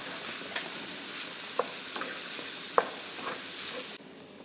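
Flour cooking with parsley, thyme and garlic in a pan, a continuous soft sizzle broken by a few scraping clicks of a spoon stirring, close and steady, falling quieter at the very end; no talking.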